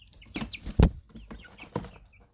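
Chickens cluck and murmur at close range as they feast, giving several short soft clucks and one louder burst, with no talk.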